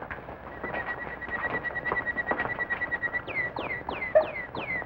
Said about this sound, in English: You're a bird. Let's see you fly.